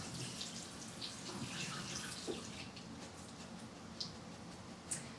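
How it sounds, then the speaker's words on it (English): Beans being rinsed under a running kitchen tap make a steady, close hiss of pouring water, with a few faint clicks and drips scattered through, and no talking. "So I'm going to rinse these. I think it's really important to rinse your beans."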